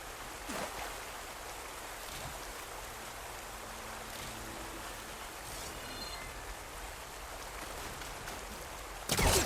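Rushing waterfall in a video game, a steady broadband roar of falling water that fills the whole clip without pause, with a louder burst right at the very end.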